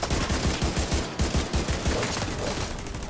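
Sustained turret gunfire in The Division 2, a dense, loud barrage of rapid shots hammering continuously throughout with no pauses and no talking.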